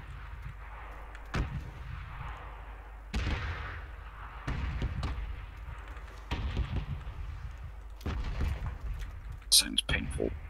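Artillery shells exploding in a bombing zone in PUBG, a series of deep booming blasts at irregular intervals, some near and some distant, under a steady rumble of background noise.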